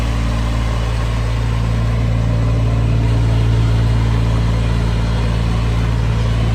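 A John Deere 1530 tractor engine runs in low range while reversing, a loud, steady diesel drone with an even low hum throughout and no talking.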